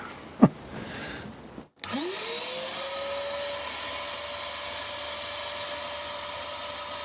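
A homemade drain pump for a milling machine pulls vacuum, starting with a thump and then holding a steady, close whining hum with a rising tone that settles into a constant drone.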